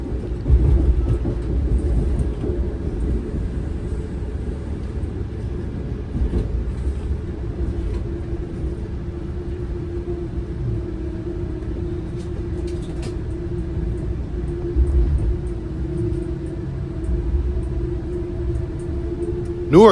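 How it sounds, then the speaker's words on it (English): An Amtrak train rumbles steadily over the Passaic River lift bridge into Newark Penn Station, a continuous low onboard roar with faint clanks and rattles of the cars throughout. "as we cross the Passaic River on the dock lift bridge and enter Newark Penn Station"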